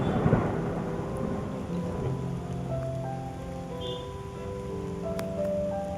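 Steady rain falls throughout an outdoor scene for a Tamil short film, a dense even hiss of drops with a low rumble, constant and fairly close with no voices over it.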